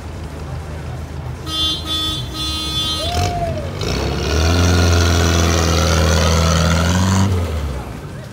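An Amphicar amphibious car at Disney Springs runs with a steady mid-pitched engine hum that swells louder near the middle. A horn-like tone and a rising whistle sound earlier, with a voice briefly audible.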